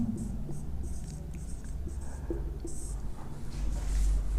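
Pen writing notes on paper during an English grammar lesson, a steady faint scratching over a low room hum with no talk.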